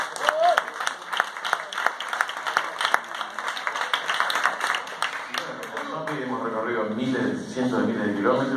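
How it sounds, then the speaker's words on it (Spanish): Audience at a rock history event at The Cavern in Buenos Aires applauds for a guitarist, with loud dense clapping for about six seconds that then blends into cheering voices and talk. "Está Zombie, guitarrista de Tren Loco, fuerte el aplauso, Zombie."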